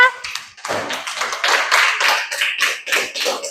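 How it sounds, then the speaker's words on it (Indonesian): A classroom group claps together in brisk, uneven bursts, loud and close, for a few seconds with no talking over it. "tepuk tangan dulu untuk kita semua"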